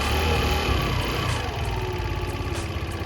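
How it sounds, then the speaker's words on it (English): A scooter engine runs with its throttle being worked, a close, steady motor drone holding at an even level with only slight swells throughout. "when I turn the accelerator towards me, it gives fuel to the engine, causing the scooter to go"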